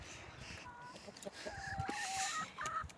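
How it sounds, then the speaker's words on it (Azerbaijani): Hens clucking while foraging outdoors in the morning, soft drawn-out clucks and a few higher calls from several birds over a low background hum, moderately close and not loud. "Toyuqları səhər gətirmişdik."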